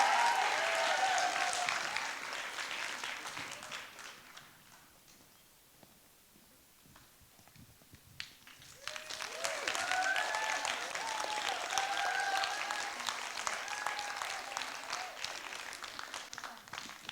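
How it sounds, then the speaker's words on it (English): Audience applause at a Scottish youth poetry slam final, sustained clapping that fades to near quiet midway, then resumes strongly and continues to the end, heard at moderate distance. "Keep the applause going,"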